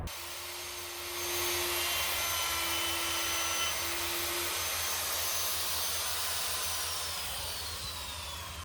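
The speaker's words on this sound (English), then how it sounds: "I'll use a router to clear out the remaining material." A router clears leftover plywood material for a subfloor in a skoolie conversion, giving a steady, loud, continuous whine and roar that holds for several seconds and tapers slightly near the end, with no voices.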